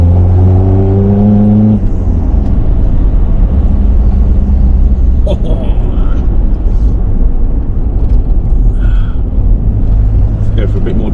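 A Nissan Patrol PD150 with an upgraded turbo accelerates in third gear, its engine pitch climbing briefly and then settling into a loud, steady roar with road noise, close and continuous.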